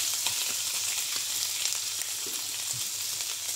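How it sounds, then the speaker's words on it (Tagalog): Minced beef sizzles steadily in hot sesame oil in a pan, a continuous close crackling fry with small pops. "Sa-fry natin yung minced beef"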